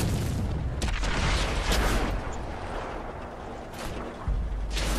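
Tank cannon fire in World of Tanks on Xbox 360, aimed at an E25 tank: a dense, rumbling battlefield wash of booms and sharp reports, several shots hitting at once over a steady low roar, fairly loud.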